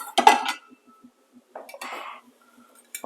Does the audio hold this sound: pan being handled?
yes